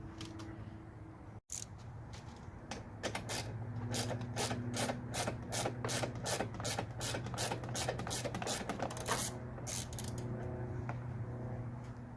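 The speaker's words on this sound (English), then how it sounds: "you're going to see one more 10mm bolt right there, which might be your final bolt. Let's go ahead and remove that." Ratchet clicking steadily as a 10mm headlamp bolt is loosened on a 2014-2019 Lexus GX460, a long run of rapid, even pawl ticks up close after a brief pause, with faint creaks between strokes.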